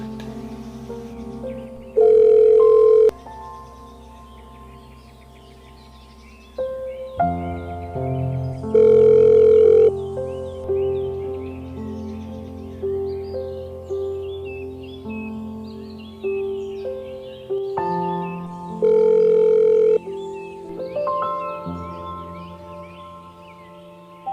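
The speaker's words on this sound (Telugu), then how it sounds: "అందరికీ ఫ్రెండ్స్కి మన అందరికీ ఫోన్ చేస్తాను" A telephone rings in three separate, evenly spaced bursts of steady electronic tone. Sustained music plays underneath throughout this scene from a Telugu horror film set at a farm house.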